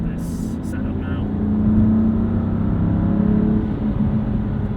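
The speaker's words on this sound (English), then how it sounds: "You can hear a little bit of blow off from the Burger Motorsports intake" A 2016 BMW M3 engine revs with a low, throaty roar that swells and eases, with a short hiss of blow-off from a Burger Motorsports intake near the start, heard loud and close.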